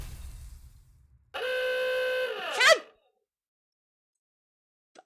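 A single honk from the video game Limbus Company, a bright sustained tone lasting over a second that bends and cuts off sharply, heard alone after a low rumble.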